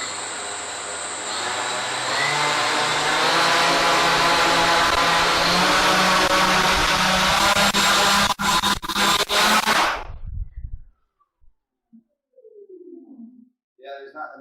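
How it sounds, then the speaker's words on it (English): Four model propellers spin up to full throttle inside a room and give a loud, rising whine and roar. The roar holds for several seconds, cuts out abruptly and stops, and a few faint sounds and a voice follow. "this is going to be just a very short run to show that I got full throttle response of all 4 propellers"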